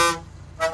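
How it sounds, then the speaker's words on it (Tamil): Horn on a modified lorry toots in two short loud blasts separated by a brief gap, close and harsh. "ஹார்ன் அடிச்சு கூப்பிடுவோமா?"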